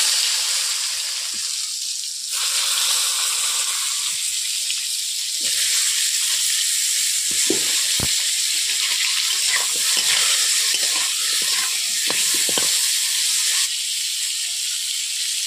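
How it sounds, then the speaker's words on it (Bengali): Pointed gourd frying in oil in a wok gives a steady, close hiss and sizzle, with occasional clinks and stirring scrapes over the whole stretch and no one talking. "কড়াইতে প্রথমে আমি তেল দিয়ে দিচ্ছি পটলগুলোকে ভাজার জন্য"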